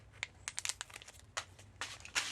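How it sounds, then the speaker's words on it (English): Candy packaging being cut open with scissors, a run of close, sharp crinkles and snips in irregular bursts, louder rustling toward the end, in a quiet setting. "Okay, how do I open this? I'm going to use scissors."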